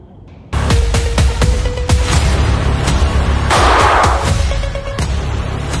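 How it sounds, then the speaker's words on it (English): A gunshot sound effect blasts in loud, with sharp repeated bangs and a sustained rumbling boom. "One gunshot, one life lost."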